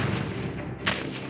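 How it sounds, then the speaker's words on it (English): Homing rockets explode in a video game, a brief burst of rumbling, crackling blasts with a sharper hit near the end, loud and close. "there's enemies that shoot rocket launchers and they're homing rocket launchers, which means they'll basically follow the player"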